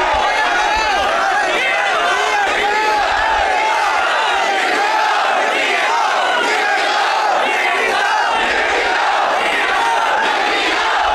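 Large crowd of young unemployed D.Ed job candidates protesting in Chhattisgarh, shouting slogans together in loud, continuous chanting with rising and falling waves of voices, close and dense throughout.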